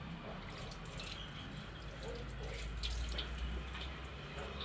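Water runs steadily from a tap as a Gudi pole is washed for Gudi Padwa, a faint, continuous splashing with small irregular spatters.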